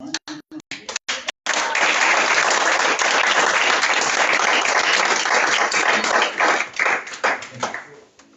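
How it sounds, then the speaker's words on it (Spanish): A church congregation breaks into strong applause after a few scattered opening claps, a dense, sustained wall of clapping that thins into fading individual claps toward the end. "Denle un fuerte aplauso al Señor."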